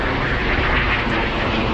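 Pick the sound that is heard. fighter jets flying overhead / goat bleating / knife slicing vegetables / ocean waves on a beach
fighter jets flying overhead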